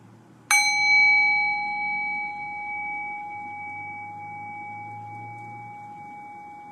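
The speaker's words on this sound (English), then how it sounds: "Now ring the bell one more time. Allow the decay of the bell to guide your thinking mind" A meditation bell is struck once and rings with a bright, clear tone that decays slowly into near silence over several seconds, alone in a quiet room.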